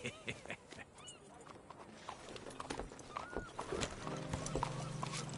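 Steady horse hooves clip-clop close by in Red Dead Redemption 2, with brief whinny-like sounds and a busy outdoor background.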